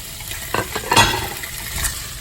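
Onions being stirred into a pan for a fish dish, a close sizzle of frying under a few scraping stirs and clinks of a utensil against the pan.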